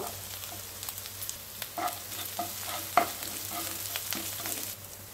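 Onions and chopped chilies frying in a pan with dried red chilies, a soft steady sizzle broken by a few sharp stirring clicks and spatula scrapes, fairly quiet and with no voices.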